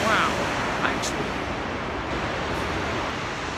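Water rushing over a dam in the Scottish lochs, a steady broadband roar holding at moderate loudness from start to finish, with a brief voice-like tone near the beginning.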